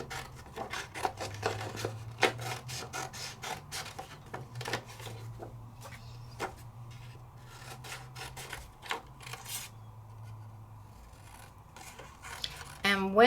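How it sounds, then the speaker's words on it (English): Scissors snipping a paper tag at a craft table, a run of short crisp cuts and rubbing sounds with a low hum beneath, spaced irregularly, alone without talk. "When you are cutting, your scissors stay in one place."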